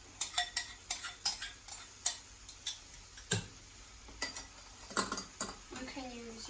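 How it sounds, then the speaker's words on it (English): A spatula scrapes and stirs butter chicken with its juices in a metal pan, a run of sharp, irregular clinks and scrapes, close and fairly quiet, with brief pauses between strokes. "You can use your spatula to try to get everything out. You want to mix it."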